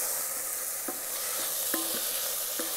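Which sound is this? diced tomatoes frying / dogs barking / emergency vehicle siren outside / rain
diced tomatoes frying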